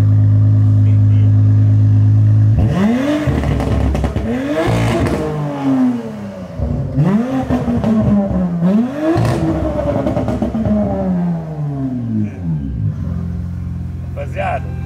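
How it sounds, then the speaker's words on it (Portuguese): Porsche engine revving hard in several rising and falling bursts, loud and close, with an idle rumble before and after and people talking over it. "Vou dar uma aceleradinha."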